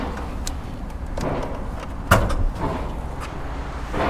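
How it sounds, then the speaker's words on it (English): The hood of a 1990 Ford Mustang is released and lifted, giving one sharp metallic clunk partway through over a low, steady background hum. "Let me open the hood."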